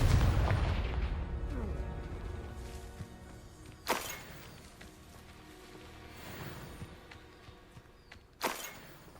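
A Confringo spell explosion in Hogwarts Legacy lands as a sharp booming blast, followed by a second similar burst later, over low rumbling and scattered battle noise.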